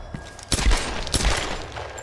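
Rapid gunfire bursts from a third-person shooter, Tomb Raider 2013, crack out in clustered volleys, with two loud peaks about half a second apart over a busy combat background.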